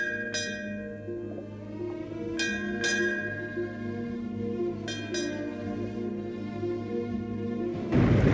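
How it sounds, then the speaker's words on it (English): A ship's fog bell rings out in a few separate, uneven strokes, each clanging tone fading slowly over a steady low rumble. "Sound that fog bell."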